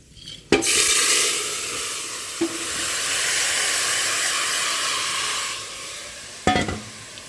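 Marinated potatoes for aloo dum drop into hot oil with tempering spices, giving a sharp burst of sizzling that settles into a steady loud hiss, with stirring clatters near the start and close to the end.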